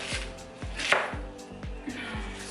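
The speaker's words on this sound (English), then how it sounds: "Cabbage is just so annoying to chop." A knife chops cabbage on a board in steady, close strokes about twice per second, each a sharp thud, with no talk.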